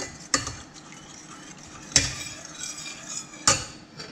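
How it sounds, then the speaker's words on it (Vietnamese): A spoon stirring condensed milk into green tea, knocking against the cup three times in sharp, evenly spaced clinks, close and clear, with faint background noise between the strikes. "Rồi khuấy cho cái sữa đặc nó tan ha"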